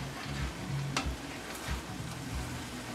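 Cabbage and shiitake mushrooms stirring and sizzling in a pan for a Tibetan dish, a soft steady fry with a few scraping clicks from the utensil, close and low, without speech.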